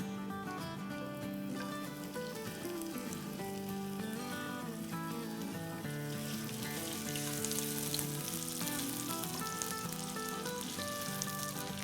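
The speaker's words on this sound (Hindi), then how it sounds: "अब हम इसमें डालेंगे चॉप किया हुआ गार्लिक और जूलियन कट जिंजर।" Chopped garlic and julienne-cut ginger sizzling steadily in hot oil in a pan, a continuous crackling fry with soft music playing underneath.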